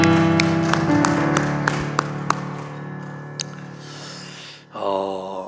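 A church congregation gives a few scattered, sharp claps in praise over a sustained musical chord, then the clapping stops and the chord fades before another tone swells in.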